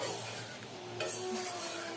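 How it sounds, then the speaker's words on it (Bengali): Food frying in oil in a kadai, a close steady sizzle with a sharp metallic clink of a utensil midway and no talk. "তবে এটা আমি কড়াইয়ে ভাজছি"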